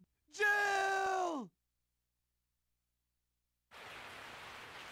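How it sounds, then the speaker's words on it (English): Falling rain in the video game Resident Evil 3: Nemesis. A moaning, voice-like harmonic cry comes first, then silence, then a steady soft hiss of rain fades in near the end. "I woke up to the sound of falling rain."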